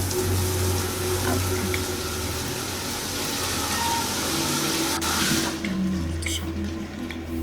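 Water runs steadily from a tap while hot and cold are mixed for a bath, a continuous close hiss and rush with a low pump-like hum beneath and faint talk behind it.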